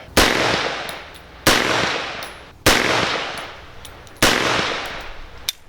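An AMT AutoMag II .22 Magnum pistol fires four loud, close shots at an even pace, about one and a quarter seconds apart, each with a sharp crack and a reverberant tail fading before the next.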